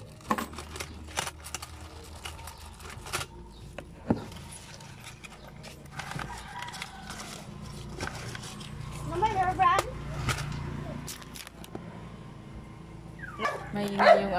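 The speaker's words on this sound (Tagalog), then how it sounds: "Maingay yung aso." A noisy dog barks in short, irregular bursts with occasional yips and whimpers, close and fairly loud, with a person talking over the barks.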